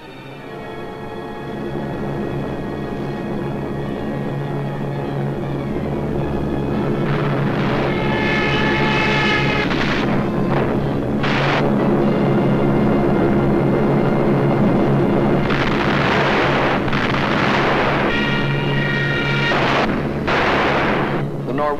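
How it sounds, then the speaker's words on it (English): German bombers attack Norway in 1943 wartime footage: a continuous loud roar of aircraft engines and heavy explosions, with bursts of gunfire and artillery-like blasts building in the second half, with no talk over it. "So the Germans brought up their bombers."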